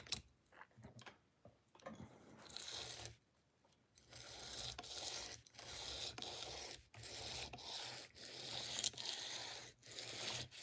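A knife being sharpened on a ceramic stone: quiet, close, rhythmic rasping strokes in bursts, separated by short pauses.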